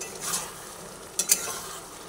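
Tomato dropped into taro greens cooking in a pan, a soft low simmer with a brief sizzle burst early and two sharp clinks or splashes near the middle.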